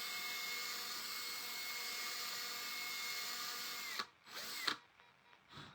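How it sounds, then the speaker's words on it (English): A power drill whines steadily at high speed, close and continuous, then stops and restarts in a few short bursts near the end. "I'm just going to drill a hole right through."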